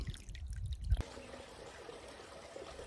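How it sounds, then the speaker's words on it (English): Spring water trickles out over a small dam near an orchard in a desert national park setting, a soft continuous flow heard alone after a brief louder rumble at the start. "some water's trickling out over the dam"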